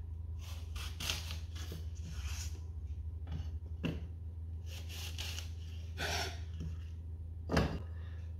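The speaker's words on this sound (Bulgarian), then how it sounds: "Първо ще почистя ябълките, режа на четвъртинки и махам тази средна част и семките." Apples being quartered and cored with a knife for flourless apple-carrot muffins: several sharp cutting strokes and board taps spaced a second or two apart over a steady low kitchen hum, with no talking.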